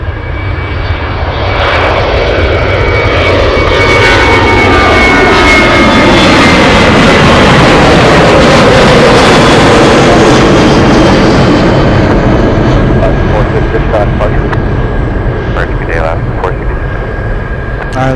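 A heavy jet, likely a Boeing 747, takes off at Anchorage airport with a loud, sustained engine roar that swells and holds for many seconds, close and powerful, under faint radio chatter.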